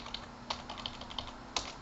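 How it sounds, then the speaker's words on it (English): Rapid computer keyboard typing while using a command line interface, a steady patter of light clicks with a few sharper, louder keystrokes, close and clear with no talking. "Talking and typing at the same time."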